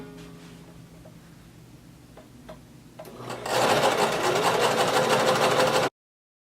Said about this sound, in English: So go ahead and lower your needle, begin sewing